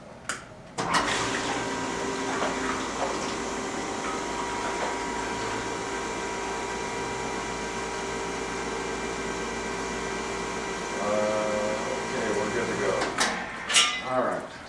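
Water pump raising the level in a hydro dipping tank, a steady rushing, humming flow that starts abruptly and runs on, then swells with splashing and gurgling near the end before cutting off.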